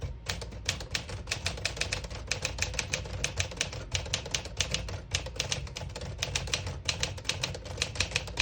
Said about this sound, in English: And it does feel like a luxury typewriter when you're typing on it.